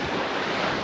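Surf washing onto a beach on São Vicente, Cape Verde, at dusk, a dense continuous roar of breaking waves with some wind across the microphone, brief and close.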